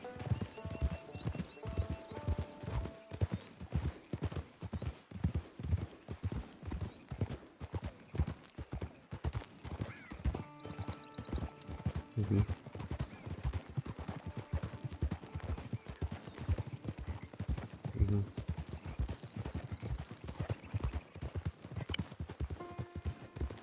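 Horse hooves clip-clop steadily and loudly close by on a Wild West trail, with occasional whinnies rising over the rhythmic steps throughout.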